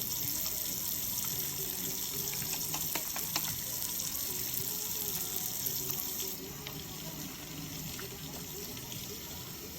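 A faucet runs steadily during a surgical hand scrub, a continuous close hiss of tap water filling the whole stretch, dropping slightly in level partway through.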